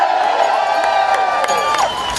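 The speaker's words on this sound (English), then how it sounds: "that gets a huge round of applause" Large rally crowd cheering and clapping at a New Jersey liberty political event, a steady roar of voices and applause with scattered whoops, sustained throughout without a break.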